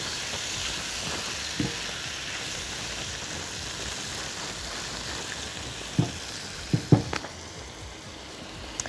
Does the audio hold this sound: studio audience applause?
no